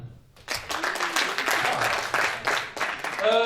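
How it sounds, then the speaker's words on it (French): An audience in a hall answers with applause, a burst of many hands clapping that rises at once and carries on steadily, with a voice speaking briefly at the end. "vous pouvez répondre par applaudissement"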